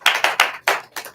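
Applause for top sales agents at an office sales meeting: about five sharp bursts of clapping, close and fairly loud, with short gaps between them and no talk.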